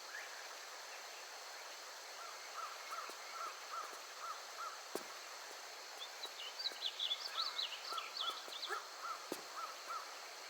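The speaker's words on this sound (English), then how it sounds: "I can hear the birds outside." Birds call faintly outdoors in Tomb Raider 3's River Ganges level, heard from a tunnel, including harsh crow-like caws, over a quiet, steady ambient hiss with occasional soft clicks.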